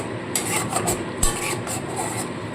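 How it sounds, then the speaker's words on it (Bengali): A spatula rasps and scrapes steadily against a pan as Bengali-style spice paste is stirred and sautéed over low heat for a cauliflower curry, with repeated rubbing strokes and no talking. "এবার খুব ভালো করে মশলাটাকে কষিয়ে নেব"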